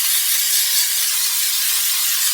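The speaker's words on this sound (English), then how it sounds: "Just a spritz of spray." A short spritz of cooking spray into a small bread pan, a steady airy hiss lasting a couple of seconds, close and alone.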